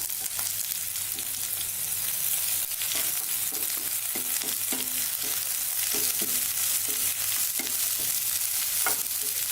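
Two green chilies frying with a large onion in a pan for cauliflower kurma, a steady hissing sizzle throughout with occasional light stirring taps; no talking.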